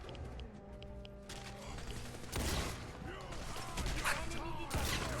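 Gunfire from the Fallout 4 video game, scattered shots and bursts mixed with game effects and a synthetic voice, moderately loud and building toward the end.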